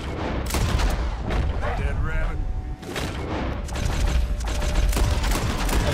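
Pistol gunfire in the video game Red Dead Redemption 2, with dense, rapid loud shots and booms over continuous in-game action noise.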